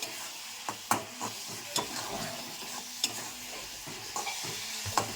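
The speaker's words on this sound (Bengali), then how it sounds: "আরও নাড়তে হবে যতক্ষণ না মশলা থেকে তেল ছাড়ছে" Masala paste for an aar fish curry being stirred and fried in a pan, with a steady low sizzle broken by several sharp scraping knocks of a spatula, close and fairly quiet, no voices.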